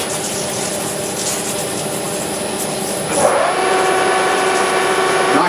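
A metal lathe running with its coolant system on, a steady whirring motor drone with a constant high whine, the tone shifting and growing slightly louder partway through, with no talking.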